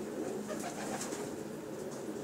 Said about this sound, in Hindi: ये बत्तख पैरा कबूतर है।